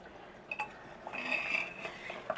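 Metal clinks and rattles as a pressure cooker lid is handled and opened after cooking mutton for haleem, a few close, sharp clanks with light sloshing in between.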